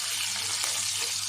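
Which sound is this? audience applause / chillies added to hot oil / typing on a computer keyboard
chillies added to hot oil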